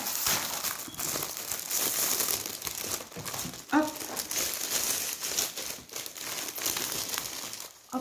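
A parcel wrapped in crinkly packaging is torn open by hand, with bursts of close rustling and crumpling that come in uneven waves, while a person speaks quietly over it.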